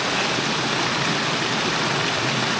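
A waterfall in Middle Black Clough rushes in a steady, dense roar of broadband water noise, close and unchanging, with no voices.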